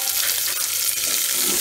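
Dried red chillies, sliced big onion and curry leaves frying in hot oil for a Kongunadu tomato chutney, a steady, close, dense sizzle and crackle with no voices.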